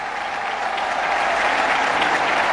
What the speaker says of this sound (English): And the crowd love it.